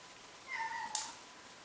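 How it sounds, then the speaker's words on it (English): A single short cat meow sounds indoors at moderate distance, a brief rising call followed by a sharp high click, against a quiet room with no talking. "cat's here."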